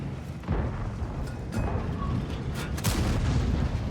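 Tank cannon fire in a tank video game with a Leopard 120, sounding as a few dull booms and thuds over a steady engine rumble, with a sharper blast near the end.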